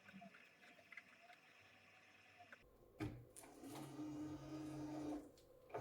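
A Bambu Lab AMS feeds filament spools into a P1S 3D printer, a quiet mechanical whir and motor hum starting partway through, close and faint, with no talk.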